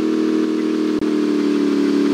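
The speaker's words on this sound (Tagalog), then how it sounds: "Ito ang lumilipad na kotse." A flying car in GTA San Andreas drones with a steady mid-pitched engine hum, loud and close, with one brief dropout partway through.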